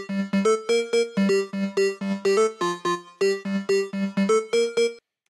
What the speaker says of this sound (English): This additional lead sound gets layered with the original.